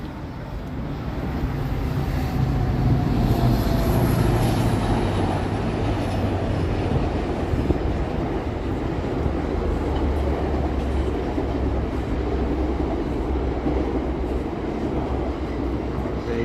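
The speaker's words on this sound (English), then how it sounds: "GO train heading into Union Station." A GO train rolls past on the approach into Union Station in downtown Toronto, a loud continuous rumble and rattle of wheels that rises quickly and holds steady for the whole stretch, with no speech over it.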